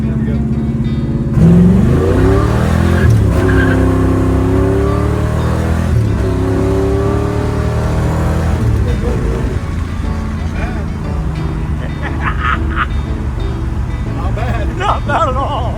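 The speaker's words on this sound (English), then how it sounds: "I'm just going to snap the throttle on it and go through the gears" A big block car engine gets its throttle snapped through the gears, a loud rising and falling rev that climbs in repeated steps, close by, with voices talking over it toward the end.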